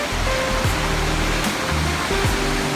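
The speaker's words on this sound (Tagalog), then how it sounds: "Nakikita ko na ang falls." A waterfall roars with dense, constant rushing noise, loud and close, filling the whole short stretch without pause.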